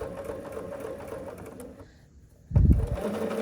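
A sewing machine works on a tulip appliqué quilt block, a close continuous mechanical hum that fades briefly to near quiet. It then comes back with a heavier thump and resumes running.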